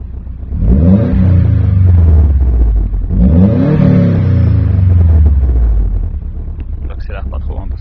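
A cold Subaru engine revs gently under light acceleration, two rising and falling rev sweeps with a steady low rumble and wind noise, heard up close from inside the car.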